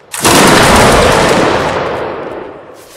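A massed musket volley from line infantry in a Mount & Blade battle bursts out loud and close, a dense crackling roar of many shots together that slowly fades over a few seconds.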